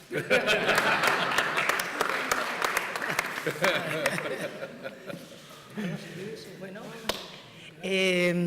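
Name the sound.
audience applause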